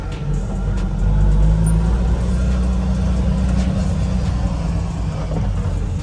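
A Toyota Lexus GS300 car driving around the block, heard from inside as a steady, fairly loud engine drone and road rumble throughout.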